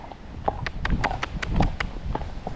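A horse walking on a snowy day while being groomed, tacked up and ridden, its hooves clip-clopping in a steady, even rhythm close by, with no one speaking.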